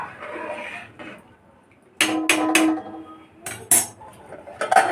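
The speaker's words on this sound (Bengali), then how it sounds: "এবার আমি এই হাতাটা দিয়ে ভালো করে নেড়ে দেব" A metal ladle stirring prawn chicken dum biryani in a pot, giving several sharp scraping clanks in quick bursts with quieter gaps between, close and loud, with no talk.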